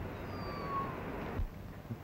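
A cat gives one faint, drawn-out meow over a hissing, noisy background from an old 1935 film soundtrack.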